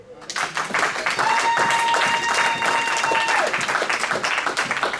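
A church congregation bursts into loud, sustained applause with mixed cheering during a sermon by a pastor, a dense wash of clapping lasting the whole stretch, with voices calling out amid it.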